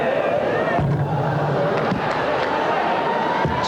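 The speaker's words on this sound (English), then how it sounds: "it was the ooh that went up from the crowd here at Boondall" A crowd at a 1992 NBL basketball game between the Brisbane Bullets and Newcastle Falcons in Boondall lets out a rising collective ooh, loud and sustained over a steady arena roar.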